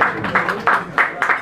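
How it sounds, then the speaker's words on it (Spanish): Audience applause for doctor Robinson González at a Friday-night peña of guaynos and boleros, a short burst of clapping from a crowd with rhythmic swells, fairly close and moderately loud. "Aplausos fuertes para el doctor Robinson González"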